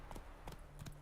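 In The Witcher 3, the horse Roach trots with quick clip-clopping hoofbeats, a few light paired steps over about a second, faint and close.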